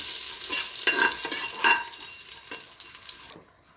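Whole cloves, cardamom, fennel and cumin fry and crackle in ghee for ghee rice, a steady hiss broken by a few sharper pops and stirring scrapes, close up, then cutting off abruptly near the end.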